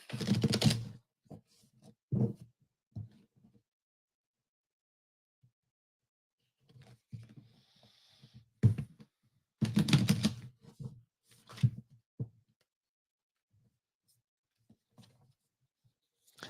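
Tarot cards being shuffled by hand in short crisp bursts, riffling and snapping in separate clusters with quiet gaps between, close and clear with no talk over them.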